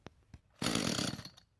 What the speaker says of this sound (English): it's a good idea to start your chainsaw with the chain lock applied